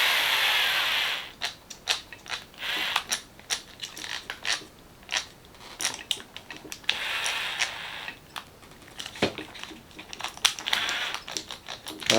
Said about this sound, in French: On va serrer un petit peu moins fort les vis du haut là.